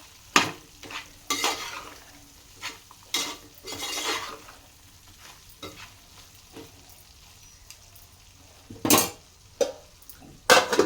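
Mutton frying in a pan while being stirred, with a soft sizzle under sharp, intermittent scrapes and clinks of a spoon against the metal pan, heard up close.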